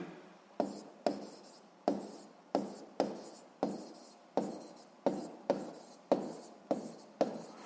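Handwriting on paper while working a 7th-grade physics exercise: a steady series of about fourteen crisp pen strokes, each a sharp scratch fading out, close and alone with no talk.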